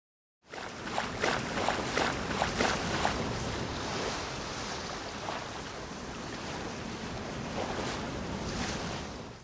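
Ocean surf from a GameCube/Wii game starts suddenly, then washes and crashes in broad rolling swells with a windy rush, steady and fairly loud, with no voices.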